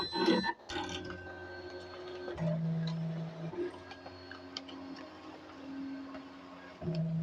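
A Bai Mirror 1501 embroidery machine traces a design outline, giving quiet mechanical ticking and intermittent stepper-motor hums as the hoop moves in short stages, close by with no talking.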